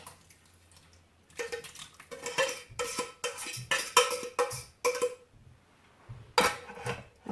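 Canned ingredients tipped into an Instant Pot, a run of wet splashes, glugs and metallic clinks against the pot, loud and close, with a short quiet gap before a final splash.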